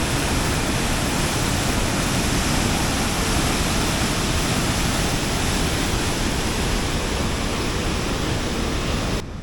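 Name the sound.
Hidden Falls waterfall roaring, Grand Teton National Park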